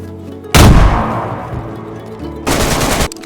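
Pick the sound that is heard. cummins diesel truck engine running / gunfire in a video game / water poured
gunfire in a video game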